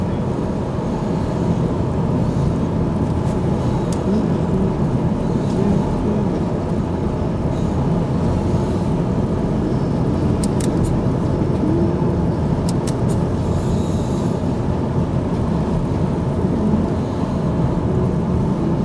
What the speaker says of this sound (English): This is us actually driving over the dam.